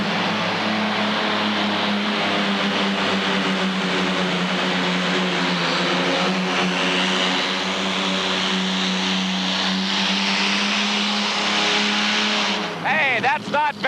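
A modified pulling tractor powered by an Allison engine roars at a 1986 indoor tractor pull, a loud sustained drone with a rising rev that cuts off abruptly near the end while a commentator talks over it.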